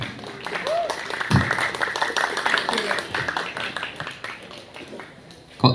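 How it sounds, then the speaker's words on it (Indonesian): Scattered clapping from an audience at a student poetry performance event, a thin, uneven patter of hands with a few louder claps, while a voice talks over it. "tepuk tangan yang meriah untuk Syuib"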